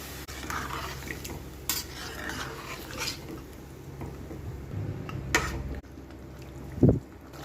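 Boiled mutton stirred into fried masala in a pot for mutton curry, with soft scraping and metal clinks of a spoon against the pot over a low, steady background, plus a single louder knock near the end.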